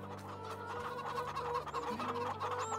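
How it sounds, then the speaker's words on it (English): Chickens in Farming Simulator 22 cluck loudly and repeatedly over a low, steady game soundtrack hum, one bird close by and others chiming in. "Those were loud-ass chickens."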